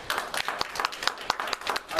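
An audience at a city financial town hall meeting claps, a steady patter of individual hand claps at close range that keeps going without talk.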